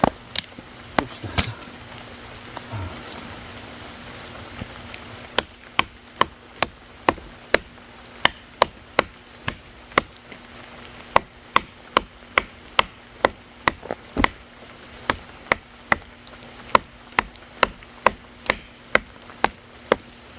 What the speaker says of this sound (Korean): 지금 나무 결을 비스듬하게 타고 들어갑니다